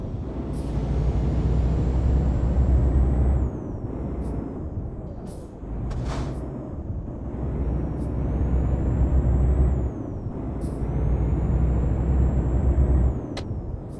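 An Iveco truck drives in Euro Truck Simulator 2 with a steady low diesel rumble, close and continuous, broken by several sharp air-brake hisses and high whistling tones that rise and fall.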